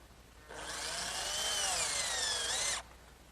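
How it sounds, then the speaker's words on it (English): A power drill drives a screw partway into wood to make a pilot hole, a steady high whirring motor whine lasting about two seconds that rises slightly in pitch, close and alone. "I'm just going to take a screw and partially drive it in to sort of give me like a pilot hole."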